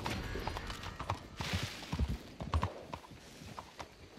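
Horse hooves clip-clop on the ground in the Red Dead Redemption 2 video game, a close, uneven run of hoof strikes mixed with soft rustling and scuffing, with no talk over them.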